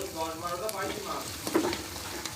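Giant freshwater prawns fry with onion and garlic in a pan, giving a steady close sizzle with a few stirring scrapes and no talk.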